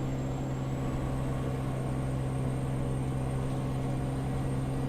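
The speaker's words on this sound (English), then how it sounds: "And listen to that engine just clicking along" A truck engine cruising at about 65 in American Truck Simulator, a steady low drone with even hum, continuous and alone throughout.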